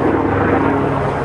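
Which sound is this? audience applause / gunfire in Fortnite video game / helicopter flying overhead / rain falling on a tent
helicopter flying overhead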